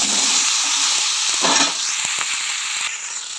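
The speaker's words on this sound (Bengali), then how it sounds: "এখন আমি সবজিটা ঢেলে দেবো।" Chopped vegetables hit hot oil in a pan, giving a loud, steady hiss of frying with faint clicks and taps of a spoon throughout, nearby and without talk.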